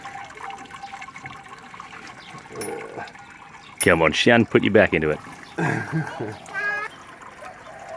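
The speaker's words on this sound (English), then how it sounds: "this is a pretty quick sparge" Water pours and splashes while sparging a homebrew beer mash on a double brew day, with loud bursts of splashing and trickling mid-clip under people talking nearby.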